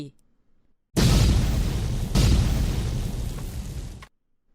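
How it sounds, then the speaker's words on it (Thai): Two grenades explode one after another about a second apart, each a heavy roaring blast that decays before cutting off. "ระเบิดทั้งสองลูกก็ระเบิดออกมาอย่างฉับพลัน"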